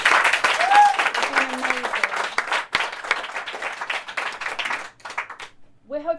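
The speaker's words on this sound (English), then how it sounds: "Can we have a round of applause for everyone who came to read for us tonight?" Audience applause for the readers at a writers' salon evening, a steady spread of clapping under a voice speaking, thinning out toward the end.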